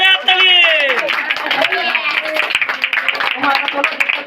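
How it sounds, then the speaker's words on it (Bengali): Guests at a child's fifth birthday party clap together in a loud, rapid patter, with lively chatter and children's voices mixed in close to the listener. "জোরে হাততালি"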